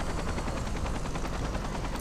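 A helicopter in the shooter game Far Cry 3 thrums up close with a fast, regular rotor chop and a constant loud engine roar, with no talking over it.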